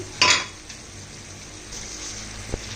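A lid lifted off a pan of cooking cauliflower stems and vegetables, opening with a sharp metallic clank followed by a soft, low simmering hiss and a small knock at the end.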